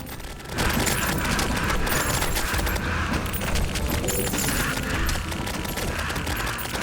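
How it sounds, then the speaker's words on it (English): Flamethrower turrets fire nonstop during a Pumpkin Moon or Frost Moon event wave in Terraria with the Calamity mod. The result is a dense, loud wall of crackling and hissing layered with clattering game effects. "those flamethrower turrets are quite effective"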